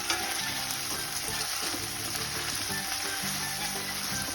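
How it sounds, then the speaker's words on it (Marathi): Onion and tomato frying in a pan for a pea and potato curry, a steady close sizzle with low background hum and occasional stirring, no one speaking. "आता कांदा आणि टोमॅटो अगदी खरपूस कलरवर भाजून घ्यायचा"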